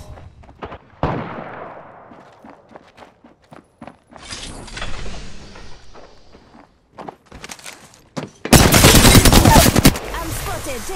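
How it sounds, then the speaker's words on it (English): Gunfire and combat in the battle-royale game Apex Legends: scattered sharp shots, a sweeping whoosh, and footsteps, ending in a loud dense burst of rapid fire. "I'm spotted, taking fire."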